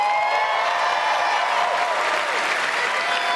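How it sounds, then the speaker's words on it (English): E3 2019 audience at the Bethesda conference applauding and cheering, a broad continuous roar of clapping and crowd noise that holds steady throughout. "Everyone's cheering"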